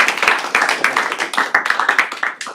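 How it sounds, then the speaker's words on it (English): Audience members at an engineering tech talk clap for the speaker, a close, steady patter of overlapping hand claps lasting a couple of seconds. "one last applause to our speaker"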